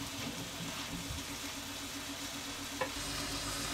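Pork fillet sizzles steadily in a hot pan while being stirred, a close, continuous frying hiss with a brief scrape near the end.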